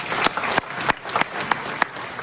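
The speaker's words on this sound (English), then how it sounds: "Give her a big round of applause" Audience applause for a speaker at a real estate agents' seminar, a brief burst of clapping with a few sharp individual claps standing out, fairly close and without talk.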